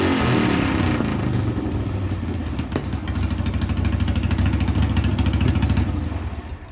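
A Bonneville race motorcycle engine is test-fired, running loud and close with a rough, throbbing idle and a brief rise in revs before settling back.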